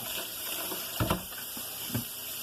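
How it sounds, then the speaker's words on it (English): Pinto beans are rinsed under running water, a steady close rush of water with a couple of dull knocks as the beans are shaken. "Just rinse them off real quick."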